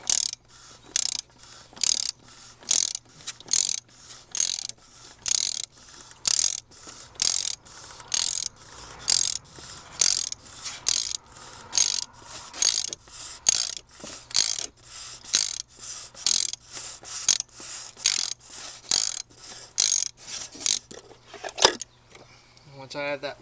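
A ratchet wrench loosens the nut on top of a Dodge Journey's oil filter canister, giving a long run of steady, close, crisp clicking strokes in a regular rhythm, each burst of clicks followed by a short pause.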